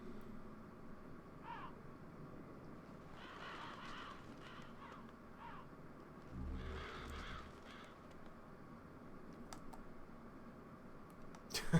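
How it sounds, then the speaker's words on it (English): Crows in the PS3 game Demon's Souls give scattered caws in short bursts against a quiet, hollow background, with faint clicking near the end. "I want to just point out how completely unimpressed these crows are."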